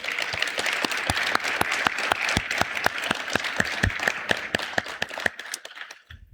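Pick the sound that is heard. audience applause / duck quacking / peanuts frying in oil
audience applause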